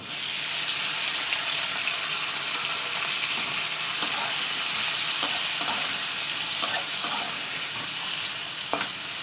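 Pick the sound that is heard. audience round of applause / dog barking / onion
onion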